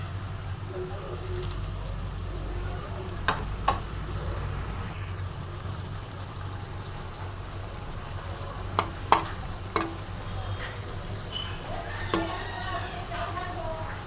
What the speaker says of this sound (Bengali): এবার আমি দিয়ে দেবো বেগুনগুলো।